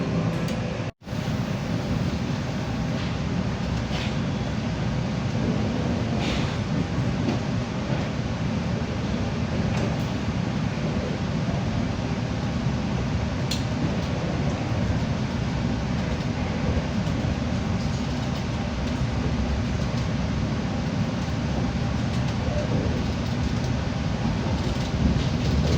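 Rapido Penataran passenger train rolling past a moving train, a sustained low rumble and wheel roar with faint metallic clicks, heavy and continuous with a brief dropout near the start and no speech.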